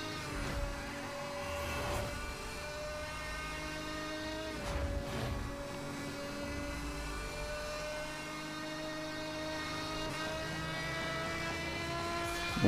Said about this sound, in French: Entendez ce magnifique V12 AMG.